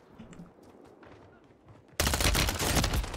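Gunfire hits the player in the video game Call of Duty Warzone (MW3): a quiet stretch with faint voices gives way to a sudden loud, dense burst of sustained shots that fills the second half.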